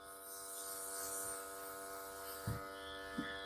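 A Saviland airbrush sprays ombre nail colour with a steady, hissing mechanical hum from its compressor that runs throughout, broken by two soft low bumps near the end.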